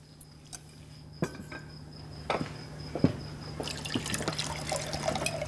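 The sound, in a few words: water being poured into a glass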